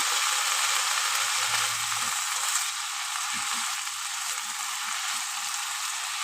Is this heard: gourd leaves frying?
yes